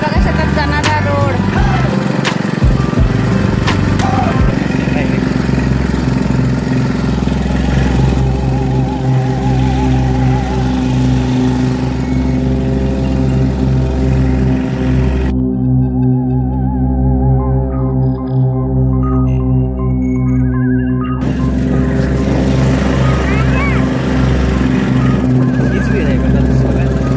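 A Luna moped ridden along a hilly dirt farm road, its small engine buzzing steadily and close, the pitch rising and falling with throttle, with someone talking over it for much of the time.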